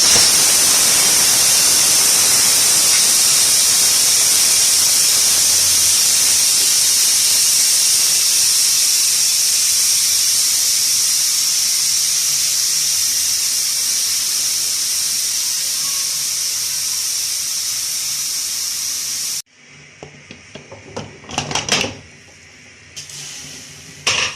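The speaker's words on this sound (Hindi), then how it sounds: "अब मैं प्रेशर कुकर को खोल" A loud, steady hiss of steam rushing out of a pressure cooker of turnips and peas for about twenty seconds, then cutting off abruptly, followed by a few soft clanks and rattles.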